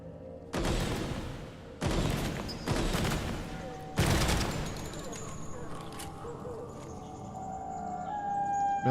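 Gunfire in the video game Project SilverFish as a player shoots at a creature: four loud, sharp bursts in quick succession, followed by a steady, lower rumble of noise.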